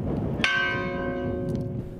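A church bell in a small, depopulated Spanish village tolls once for a death, a single clear strike with a long ringing decay over a low background murmur.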